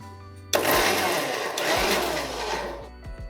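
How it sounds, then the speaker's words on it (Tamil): Kitchen mixer grinder whirring loudly as it grinds cooled masala for oil brinjal curry into a smooth paste, starting abruptly and running steadily for a few seconds before winding down, close and alone. "இப்போ இதை வந்து நம்ம மிக்சி ஜாரில் போட்டு நல்லா நைஸாக ஆட்டிட்டு வந்துடணும்"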